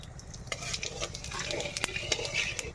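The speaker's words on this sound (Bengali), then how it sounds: "আমি এই তেলেই দিয়ে দেব কিছু গোটা জিরে আর তেজপাতা।" Whole cumin seeds and bay leaves hit hot oil, giving a steady, close sizzle and crackle with sharp pops and faint clinks of a spoon against the pan. No one speaks over it.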